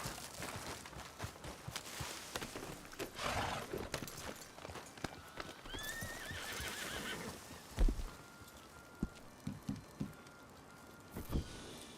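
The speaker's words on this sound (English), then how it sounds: "I gotta brush the horse real quick." A horse in a video game whinnies amid scattered clip-clop hoof steps and shuffling movement, with sharp thuds breaking in near the end; fairly close and moderately loud, no talking.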